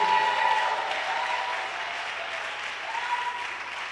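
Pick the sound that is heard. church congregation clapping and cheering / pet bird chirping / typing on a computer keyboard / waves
church congregation clapping and cheering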